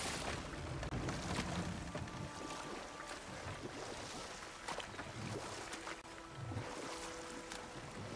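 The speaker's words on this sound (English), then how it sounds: "Waterfalls. We're close." A waterfall rushes in God of War Ragnarök, a dense, constant roar of broadband water noise filling the scene, with faint ambient tones and soft thuds beneath it and no speech.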